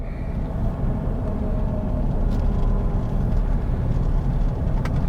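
A truck towing a trailer cruises along a short stretch of road, giving a steady low engine rumble and road roar with constant loudness and no talking.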